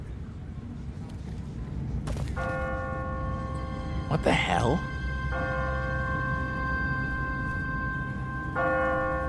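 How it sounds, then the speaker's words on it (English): An automatic church bell tolls in The Walking Dead video game, a few resonant ringing strikes, each sustaining with long overtones over a noisy outdoor backdrop, with a startled voice speaking between them. "What kind of church bell goes off at 20 past the hour?"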